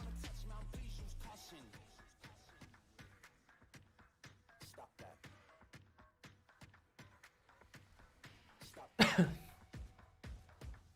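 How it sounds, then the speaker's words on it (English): A man coughs once, sharp and close, near the end of a stretch of quiet desk noise and faint clicks while playing World of Warcraft. "Shouldn't have coughed."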